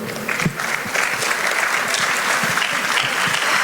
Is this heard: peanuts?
no